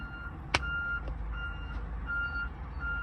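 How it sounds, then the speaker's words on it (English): A garbage truck's reversing alarm beeps at a steady rhythm, several evenly spaced tones at moderate distance over engine rumble, with one sharp clank early on. "Garbage truck."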